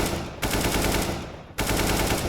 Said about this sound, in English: I just take a AK, start strafing, have a stagnant crosshair, and just flick and burst